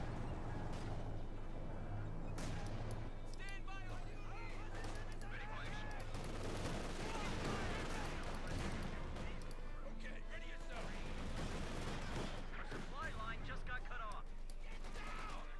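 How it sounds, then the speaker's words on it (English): Gunfire and explosions in Company of Heroes 2, a .50 caliber machine gun chattering under mortar fire, quiet and dense crackling bursts and thumps running throughout beneath a talking voice. ".50 caliber fire under mortar fire."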